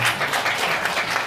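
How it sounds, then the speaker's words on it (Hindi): Audience clapping for a student at a school prize ceremony in a village high school, a short burst of dense, steady applause from a crowd. "बड़े जोरदार तालियों से इनका सम्मान करेंगे"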